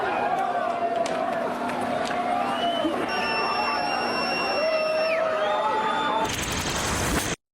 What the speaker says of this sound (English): Here the crowd chanting away their anti-fascista, a lot of Antifa chants going on